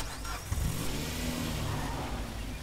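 A car in the survival video game State of Decay 2 pulls away, its mid-pitched engine droning and revving steadily at a fairly constant loudness throughout.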